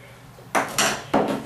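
A spoon scoops solidified coconut oil from its container, making three short, close scraping clinks with brief quiet gaps between them.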